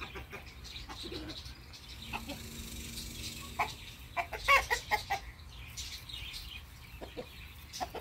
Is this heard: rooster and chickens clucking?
yes